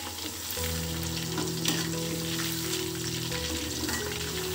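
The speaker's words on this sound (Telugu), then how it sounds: "ఎప్పుడైనా కానీ చికెన్ ఫ్రై చేసేటప్పుడు వేసిన వెంటనే తిప్పకూడదండి." Pieces of chicken 65 fry in hot oil with a steady, loud crackling sizzle that runs unbroken throughout, a low mechanical hum sitting beneath it.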